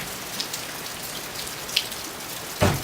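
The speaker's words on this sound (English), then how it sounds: "it's just a gray day, pouring down rain" Steady heavy rain from Hurricane Irma hisses down continuously, with a few louder drips and a brief thump near the end; no voices.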